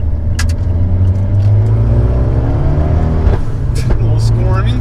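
Widebody Abarth 124 on fresh 275 tires, engine droning steadily and close with a rough idle character, low rumble shifting as it drives, speech heard over it.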